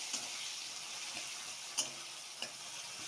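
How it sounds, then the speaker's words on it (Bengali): Onions sizzling and frying in white oil in a pan, a steady faint hiss with a few brief clicks and spatters, no talk. "পেঁয়াজগুলো প্রথম লাল লাল করে ভেজে নেব।"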